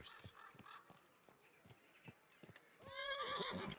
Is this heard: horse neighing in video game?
yes